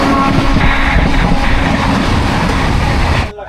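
Interior of a moving passenger train on a journey toward Spiti Valley, a loud continuous rumble with rattling carriage noise and faint clickety-clack, steady until it drops away near the end.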